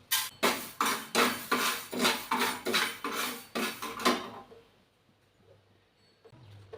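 Fenugreek seeds are dropped into a pot for pickle-making, giving about a dozen sharp, rhythmic metallic clinks and rattles close up, then quiet.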